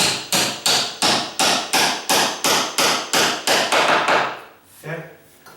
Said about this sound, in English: get your hammer up high enough and beat down on it